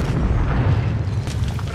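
An explosive charge detonates in Call of Duty: Warzone, a deep, muffled boom that rolls out and rumbles for a moment, like a heavy blast heard at a distance.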